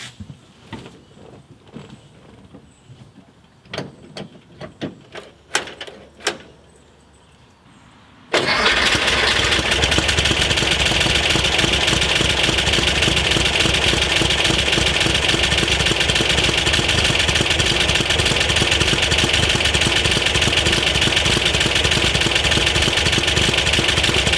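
A 1964 Volkswagen Beetle with a twin-carb engine, its number 1 and 3 cylinders noted as very tight, cranks in several short bursts before catching, then settles into a loud, steady, rough idle that continues alone to the end.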